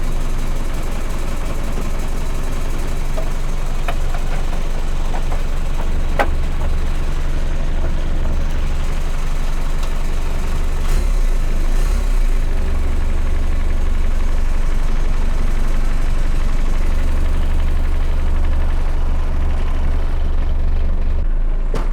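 A VW Rabbit MK1 fitted with a 1.9L ALH TDI diesel engine runs steadily with a deep, loud low rumble and a faintly irregular note from a misbehaving fuel pump, a few sharp clanks breaking through.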